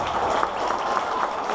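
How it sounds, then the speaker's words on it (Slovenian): Brief burst of audience applause for a guest at a school event, continuous crowd clapping at moderate level throughout. "Tako da en velik aplavz za Vlada."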